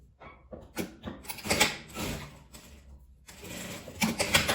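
A sewing machine stitches the side seam of a fabric bag in short, uneven bursts of rapid mechanical clatter. The bursts come at close range with brief pauses between them, and there is no talking.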